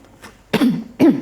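Woman coughing, two short throaty coughs close to the microphone, preceded by a faint breath.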